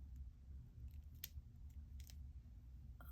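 Beading wire is snipped with cutters during the making of a four-bead link, a few faint, tiny clicks spread over a quiet background hum.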